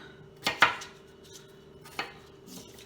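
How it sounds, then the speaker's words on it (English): A knife cutting potatoes into chunks for a crockpot kielbasa and sauerkraut dish: a quick pair of sharp chops on a board, then a single later chop and a faint tap, close and crisp over a quiet kitchen. "So I'm just cutting it up into chunks, as I said, just about this size."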